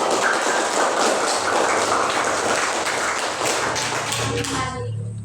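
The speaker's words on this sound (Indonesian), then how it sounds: "Tepuk tangan untuk kalian" Classroom applause from a group of students, dense and loud clapping filling nearly the whole stretch before fading toward the end, with a voice starting to speak as it dies down.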